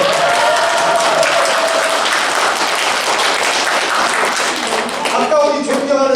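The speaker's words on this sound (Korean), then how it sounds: "박수를 한 번 더 쳐줘야겠습니다" Sustained applause from an audience at a future-prediction lecture for a Yonsei University executive course, steady dense clapping throughout, with a voice speaking over it at the start and again near the end.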